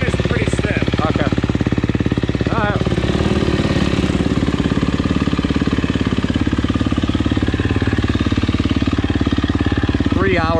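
A brand-new 2023 Husqvarna FC250 dirt bike engine on its first ride, running loud and steady with a rapid, rattling pulse throughout.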